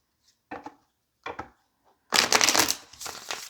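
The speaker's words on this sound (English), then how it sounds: "Do I need to shuffle this deck again" Two short riffles of cards, then a longer, louder cascading shuffle followed by a softer one, close up and without speech.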